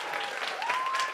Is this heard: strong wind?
no